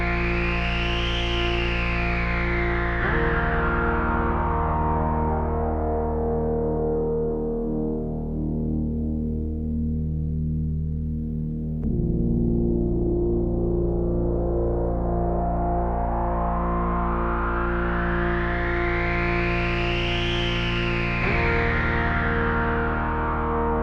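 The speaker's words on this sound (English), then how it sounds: "Now at full drive, the filter resonance is really strongly affected and it won't self-oscillate anymore." Trigon synthesizer with its filter overdriven at full drive, a buzzing distorted tone whose filter sweeps down and back up over about twenty seconds, loud and continuous with no talking.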